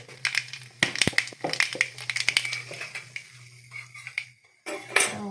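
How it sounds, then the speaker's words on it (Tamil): Mustard seeds tossed into hot oil in a kadai crackle and pop in quick sharp bursts, close and fairly faint, over a steady low hum with a few metallic clinks, briefly stopping before resuming. "எண்ணெய் சூடான பிறகு கொஞ்சம் கடுகு போட்டுக்கலாம்."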